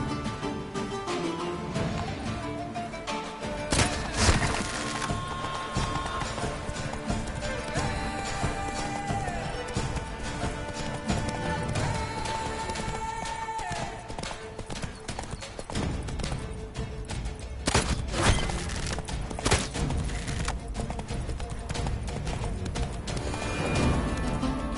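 The hooves of Roach, a horse in a video game, clip-clop steadily with an occasional neigh and sharp crashes, all set against a dense, continuous game soundscape.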